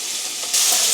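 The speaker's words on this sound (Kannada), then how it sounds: "ಕಟ್ ಮಾಡಿ ಇಟ್ಕೊಂಡಿರುವಂತಹ ಈರುಳ್ಳಿನ ಹಾಕ್ಕೊತಾ ಇದ್ದೀನಿ." Chopped onions hitting hot oil in a pan for liver pepper fry, a bright steady sizzle that swells sharply louder halfway through as the onions go in, close and continuous with no talking.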